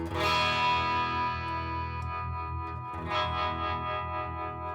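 Electric guitar played on the bridge pickup through a pedalboard of effects with overdrive added: a strummed distorted chord rings out with chorus-like shimmer and echo, then a second chord is struck and sustains.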